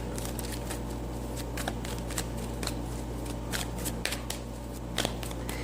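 Tarot cards are shuffled close up, a quick run of papery riffles and slides repeating in a loose rhythm over a low steady hum.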